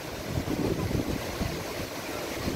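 Sea waves churning with heavy wind buffeting the microphone, a constant rough roar with low rumbling surges.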